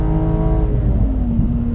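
Steady in-cabin drone from a modified BMW Z3M Coupe with an S54 engine and Eisenman exhaust, loud and continuous with low harmonic tones that shift slightly in pitch, heard with no sound insulation in the rear hatch.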